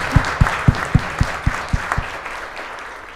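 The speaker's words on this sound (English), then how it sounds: "let's give a round of applause for Esther and Javier." A panel-discussion audience applauds, with about eight evenly spaced sharp claps near the microphone standing out over a softer wash of clapping from the room that fades toward the end.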